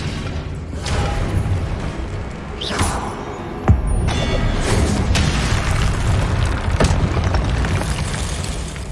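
Expelliarmus spell effects in the video game Hogwarts Legacy, a continuous rumbling magical roar with booming bursts and a sharp impact near the middle, loud and close.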